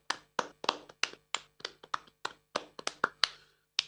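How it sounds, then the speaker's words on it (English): A small group at a rap rhythm night claps in a loose, sparse pattern, about a dozen distinct sharp claps spaced unevenly, close and fairly quiet, with no talking. "Give yourselves a round of applause"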